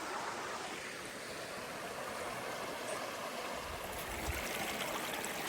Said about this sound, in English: Jacob and I found another one of these microenvironment waterfalls.